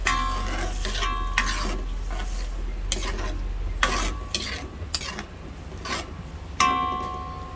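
Laing stirred in a pan with coconut milk: a spoon scrapes and clinks against the metal in repeated strokes, close and fairly loud, over a low steady hum from the stove.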